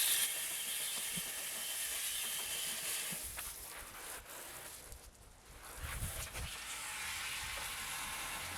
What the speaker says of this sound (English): now I want to give it a really good rinse. Try and wash as much of this kerosene and the soap and everything out of the chain